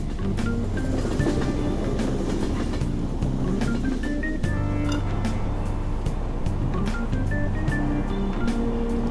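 Subway train ride from the video game Persona 5: a steady rumble of the moving car, with rhythmic track clicks, tonal hums and whining pitches throughout, loud and continuous with no talk.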